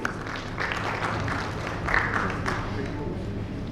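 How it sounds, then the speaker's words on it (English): Audience applause at a banking summit panel session, a steady, dense wash of clapping from a seated crowd filling the whole stretch, with a slight swell near the middle. "A huge round of applause for him."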